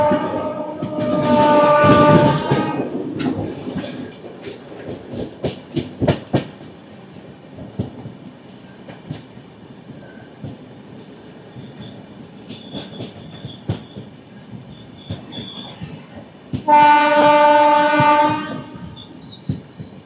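The Howrah–Bengaluru Duronto Express, train 12245, sounds a loud sustained horn near the start and again near the end, with rhythmic wheel clatter and rail rumble running between the two blasts and no talking.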